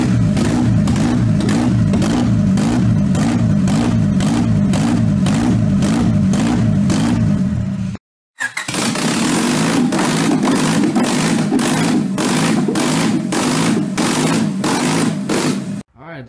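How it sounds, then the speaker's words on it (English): A Honda Civic with ignition timing off revs hard and loud, its engine roaring in rapid pulsing bursts with popping backfires, cutting out briefly before roaring up again. "it shoots fucking flames. Yeah, because the ignition timing is off"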